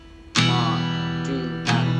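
Guitar strummed with downstrokes in a dotted rhythm, a quarter note followed by an eighth note, with a strong chord attack at the start and another about 1.3 seconds later, each ringing on between hits.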